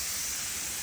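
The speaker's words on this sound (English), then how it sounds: "This is just a lacquer spray." A lacquer spray can hisses in one short continuous burst, close and steady, while coating the bottom half of a driftwood and hardwood piece.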